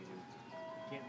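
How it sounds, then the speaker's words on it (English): Tinny, steady melody of an ice cream truck's chime, playing faintly in the distance beneath a low hum. "Ice cream truck's coming, I can't wait."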